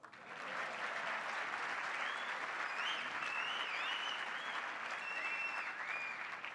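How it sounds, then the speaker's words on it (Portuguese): A crowd applauds at a talk, a dense, steady wash of clapping that swells in and holds, with scattered whoops and whistles rising above it. "Cadê as palmas?"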